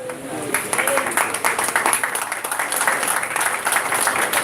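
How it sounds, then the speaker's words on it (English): A school audience gives a steady round of applause at a live ceremony, a dense continuous patter of clapping at close range that holds level for the whole stretch, with a faint voice underneath. "So give him a big round of applause, everybody"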